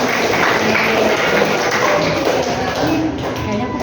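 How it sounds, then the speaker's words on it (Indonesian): Classroom students clapping their hands together, a dense, steady patter filling the room at close range with some voices mixed in. "tepuk tangan dulu buat kita semua."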